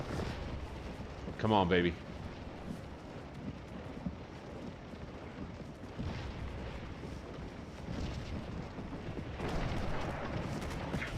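Cannon and rifle fire from a Scourge of War: Gettysburg battle, with distant booms and crackling volleys rumbling steadily under someone talking throughout.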